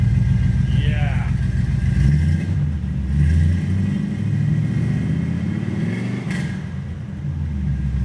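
Big-block 454 engine revving through new Thrush mufflers, a deep throaty rumble that climbs and falls close by, with people talking over it.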